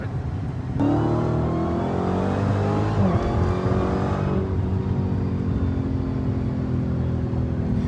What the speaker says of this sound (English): go drive around the world's fastest production car in the quarter mile and run some gas out of it